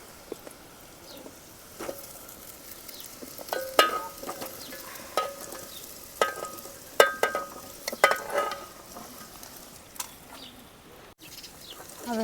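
Fang-leaf muthiya dhokla pieces are stirred into a mustard-seed, cumin and curry-leaf tempering, giving soft intermittent scrapes and light sizzling while birds coo faintly in the background.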